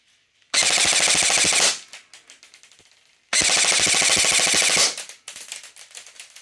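A Zion Arms PW9 Mod.1 AR9 airsoft submachine gun fires two loud, close full-auto bursts of about a second and a half each, a rapid mechanical chatter with clicks and rattles between them.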